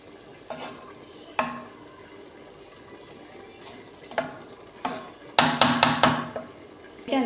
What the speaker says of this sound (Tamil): இப்போ இதை ஓப்பன் பண்ணி பார்க்கலாம் நல்லா இந்தளவுக்கு ட்ரையாக தண்ணியெல்லாம் ஓரளவு குறைஞ்சிருச்சு இப்போ இதை வந்து லைட்டாக கிளறி விட்டுக்கலாம்